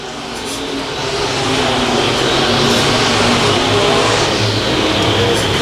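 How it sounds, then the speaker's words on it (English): USRA stock cars and sport mods accelerating together on a single-file restart at a dirt speedway, a loud, dense engine roar swelling and holding steady with no talk over it. "Single file restart as they come back to the start line. Mike Schrader with green flag high in the air, and here we go."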